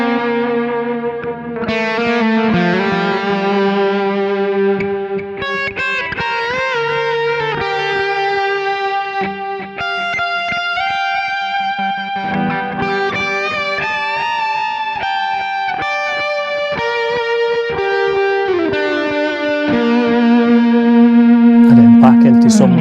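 Electric guitar with distortion, echo and chorus effects works slowly through layered parts of a song, sustained notes and bends ringing continuously and loud.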